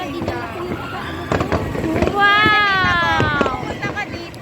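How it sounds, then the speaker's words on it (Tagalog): Fireworks at an amusement park pop and crackle in a rapid scatter of bursts, with a whistling rocket rising midway, while excited people talk and exclaim close by. "Ayan na po ang fireworks na."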